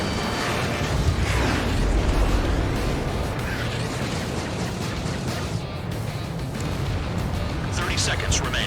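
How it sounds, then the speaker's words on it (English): Missile strikes and explosions in Ace Combat 7 rumble continuously, with heavy booms over a roar of jet engine noise, loud and dense, while voices talk over the action. "Missile. Spear 15 target destroyed."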